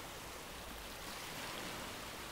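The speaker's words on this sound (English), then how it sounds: "It's still windy and we still have waves crashing in." Windy beach with waves rolling in, heard as a steady, fairly faint wash of broadband noise with no distinct breaks, like distant surf blended with wind.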